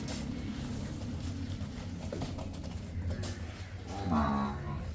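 A cow or buffalo lows at a dairy farm, a low moo rising near the end over steady outdoor background noise.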